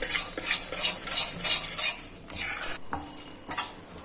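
Flour roasting in ghee for Gujarati magaj, stirred in a pan with a utensil: repeated scraping and clinking strokes in an uneven rhythm over a soft sizzle, close and moderately loud, with no talking.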